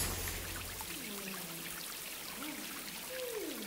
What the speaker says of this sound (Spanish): ¡Y te voy a echar agua de coco!